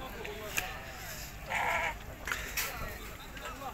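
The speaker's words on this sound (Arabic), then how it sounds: "خروف سمينة" Sheep bleat at a busy livestock market in Tetouan. A couple of short bleats stand out over a dense crowd murmur, and voices talk nearby.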